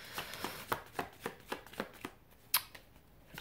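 Tarot cards being shuffled, a steady run of crisp riffling snaps repeating roughly every half second, close and fairly loud, with no talking.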